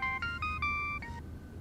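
A short electronic ringtone plays a rising series of clear beeping tones, fairly quiet and with no one talking over it.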